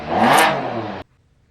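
A Can-Am Spyder F3S fitted with a Triple Threat exhaust gives one loud, close rev lasting about a second, then cuts off abruptly into near silence.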